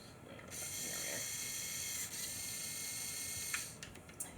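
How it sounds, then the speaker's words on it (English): Lego Technic medium motor drives the bucket on the boom of a Mercedes-Benz Unimog U500 model, giving a steady close mechanical whir and ratcheting gear chatter that runs throughout, with small clicks near the end. "The bucket, powered by a medium motor tucked into that section of the boom"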